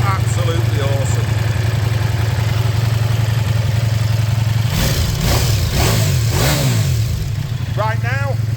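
A Ducati Multistrada V4S adventure motorcycle idles with a steady low engine hum, then revs up and down several times in the middle before settling back to idle, with someone talking over it.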